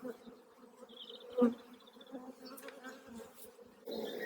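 Low, steady buzzing of many bees close by inside an open hive during an inspection, with a brief louder burst partway through and faint rustling around it.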